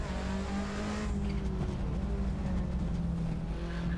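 A Cosworth RS500 racing car in Assetto Corsa roars under acceleration, its engine note climbing through the revs with a brief shift, loud and close, with faint tire noise and no talk.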